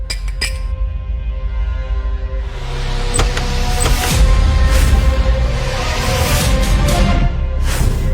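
Glasses clink in a celebratory toast, with a few sharp, bright clinks standing out over a fuller background of room noise and music, and no speech.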